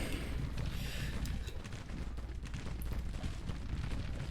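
Gunfire rolls through a Civil War video game battle on a Union campaign as a dense, continuous roar of crackling musket volleys and booms, loud and unbroken throughout.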